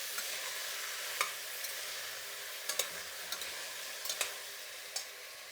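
Onion, tomato and vegetable pieces fry in a pan with a steady soft sizzle, broken by a few light clicks of a spoon against the pan, close and fairly quiet.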